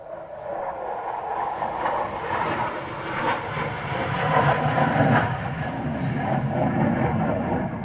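A jet aircraft passes near an airbase with a broad, rumbling roar that builds gradually and stays loud throughout, alongside what may be a passing train.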